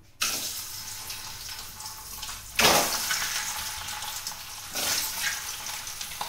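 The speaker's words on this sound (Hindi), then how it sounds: "अब हम इसको तेल में डालेंगे।" Egg dropped into hot oil for egg curry, a sustained sizzling hiss with two sharper surges of crackle as more goes into the pan.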